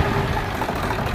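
A 90 hp engine newly fitted to a Ford 5911 tractor runs in a dense, rough diesel rumble, loud and close for a brief stretch.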